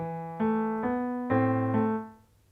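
Keyboard plays a handful of two-note chords from Bella Ciao one after another, left hand adding an A, each held briefly and ringing clearly, before fading out.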